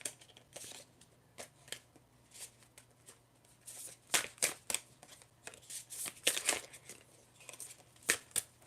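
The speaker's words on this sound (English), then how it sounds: "I'm going to shuffle some tarot cards next to see what other messages there are for you" Tarot cards are shuffled by hand in quick, irregular bursts of crisp riffling and flicking, close and fairly quiet, with a low steady hum in the background.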